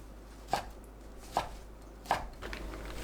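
A knife cuts fish cake into finger-length pieces on a board, three quiet, evenly spaced chops landing about a second apart.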